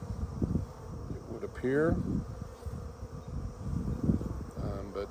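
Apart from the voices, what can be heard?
bees buzzing on a hive frame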